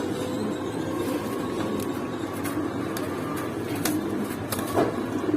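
A pair of pigeons coos softly amid a busy loft or market backdrop, with faint intermittent calls over a steady low hum.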